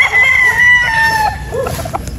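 A possum broodstag gamefowl crows once, loud and close, a long drawn-out cock-a-doodle-doo that trails off, with faint clucks and farmyard noise behind it.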